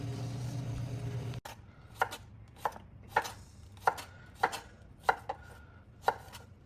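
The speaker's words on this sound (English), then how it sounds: "Cut it the way you want it." A knife chops cucumber on a board for pickle, giving about eight crisp, evenly spaced cuts, close and clear, with no talking.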